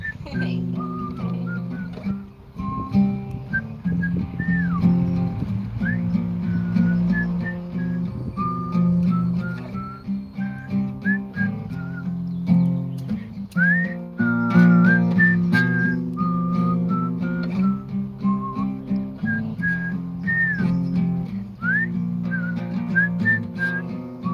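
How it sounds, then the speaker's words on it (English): Someone whistles a bright, lilting melody over a steady background accompaniment, continuing throughout with short repeated phrases. "I like whistle sounds."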